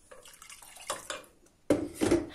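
Water poured into a hot pan of frying Jerusalem artichokes, short splashing bursts with a loud sizzling spurt near the end, close and alone without speech.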